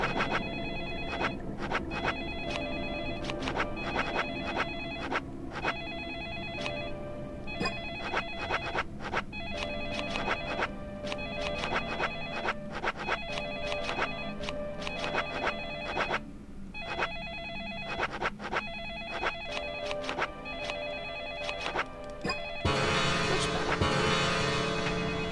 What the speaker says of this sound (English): That ringing's kind of annoying, huh?